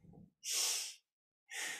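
Rapid forceful breaths during a fast kundalini yoga aura sweep: two loud, breathy bursts of nasal snort-like exhalation separated by a short silence, close and alone after a faint low murmur at the start.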